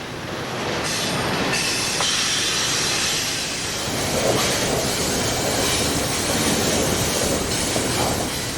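A long freight train rolls past in Pennsylvania, trailers of mail and UPS shipments riding at its tail, with a loud, steady roar of wheels on rail, faint squeals and clatter throughout.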